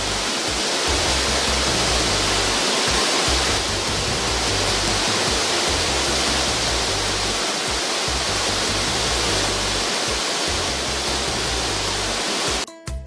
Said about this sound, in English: the volume of water splashing does not even allow one to get to the bottom of the fall.